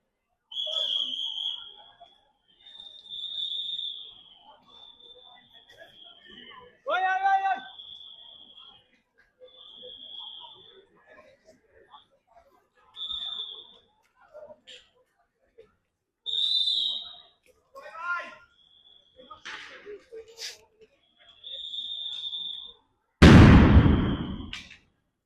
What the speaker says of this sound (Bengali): একের পর এক সাউন্ড গ্রেনেড নিক্ষেপ করা হচ্ছে আইন শৃঙ্খলা রক্ষাকারী বাহিনীর পক্ষ থেকে